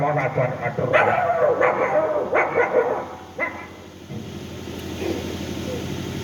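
A dog barks several times in quick succession close by, then fades as someone talks over a steady background hum.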